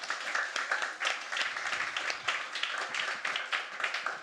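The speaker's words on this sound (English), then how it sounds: "so one last round of applause for them." An audience at a storytelling night in a bar's hosting room gives a final round of applause for the performers, dense steady clapping from many hands that fills the room for several seconds.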